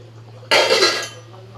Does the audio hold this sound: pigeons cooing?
no